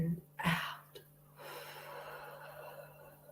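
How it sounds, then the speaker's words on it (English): Deep breathing in and out during a relaxation exercise, with one sharp inhale followed by a long, soft exhale. The breaths are close and fairly quiet, with a low steady hum underneath. "Deep breath in and out"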